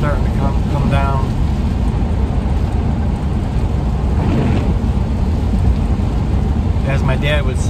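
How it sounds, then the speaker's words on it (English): Heavy rain pours down in a dense, steady roar that fills the scene, with a voice talking faintly underneath at times. "the rain's really starting to come down"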